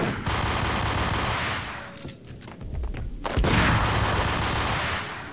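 Rapid bursts of gunfire in the video game Max Payne fill the scene, dense automatic shooting that breaks off briefly and then resumes loud and sustained.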